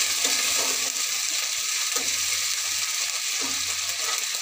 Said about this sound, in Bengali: ভালো করে ভেজে নেব মশলাটা, টমেটোটা একটুখানি কষিয়ে নেব